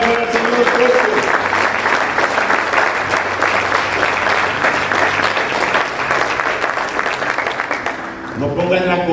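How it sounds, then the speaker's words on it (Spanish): A church congregation applauds loudly and steadily for several seconds, a dense sustained roar of clapping that tapers near the end as a voice begins to speak. "Si le vas a dar un aplauso, dáselo al Señor fuerte."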